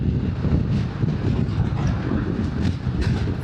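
Strong wind buffets the microphone high up on the 18 km Great Belt Bridge in Denmark, a steady, loud rushing roar with no breaks, heard alone without any talk.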